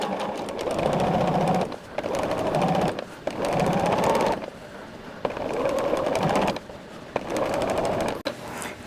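Sewing machine stitching a quilt in repeated bursts of fast, even mechanical whirring, each run a second or so long and separated by short pauses, close and clear.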